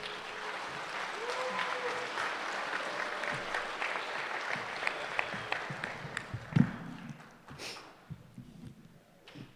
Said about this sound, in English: So let's do a round of applause for all of the candidates.